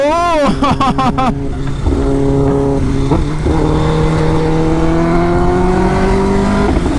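A 2023 Kawasaki ZX10R motorcycle revving, a rising engine whine that drops and settles into a steady, close-up droning hum with a few short throttle blips, under loud continuous sound.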